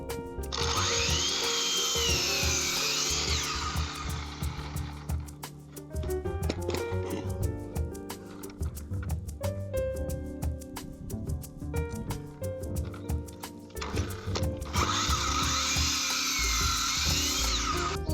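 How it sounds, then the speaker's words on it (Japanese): A power tool cuts wooden posts while a dog jump pool is being built. Two loud, high, whining cutting bursts sit at the start and end, with a steady tonal backing underneath between them. "柱切っていきたいと思います。"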